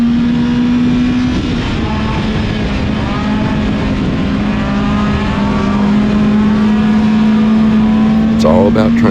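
A Hornet class race car engine drones loud and steady on the Willamette Speedway track, holding a constant pitch while voices talk over it.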